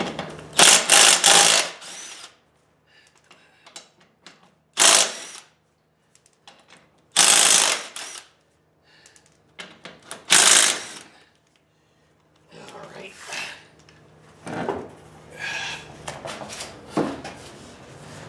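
Short bursts of a power tool whirring while the wheel comes off an Arctic Cat 4WD ATV, several loud separate runs spaced by quiet gaps, close by, with scattered talk between.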